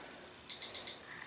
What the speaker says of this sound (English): Oh, the timer's going off.